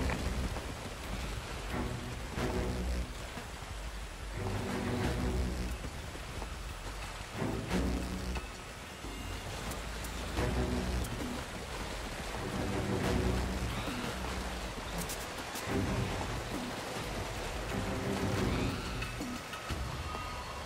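River and waterfall water in Call of Duty Ghosts, a continuous rushing, splashing wash of moderate loudness that runs throughout without any talking.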